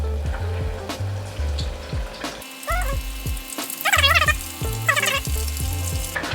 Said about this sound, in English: So we're going to take these fillets and drop them in gently.